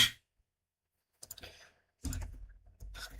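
Computer keyboard typing in short close bursts of clicks separated by silent pauses.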